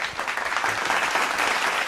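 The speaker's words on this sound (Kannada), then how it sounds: "ಈ ಹಾಡನ್ನು ಕಂಪೋಸ್ ಮಾಡಿದವ್ರಿಗೆ ಕೂಡ ಒಂದು ಚಪ್ಪಾಳೆ ಬರಲಿ" Applause from a studio audience at a singing show, a dense burst of clapping filling the whole moment, loud and close.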